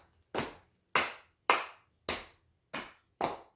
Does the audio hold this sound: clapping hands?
yes